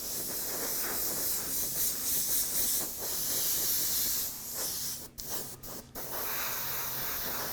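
Spray can hissing black paint onto a laser blaster prop in long continuous bursts, briefly pausing before resuming, close and steady with no talk.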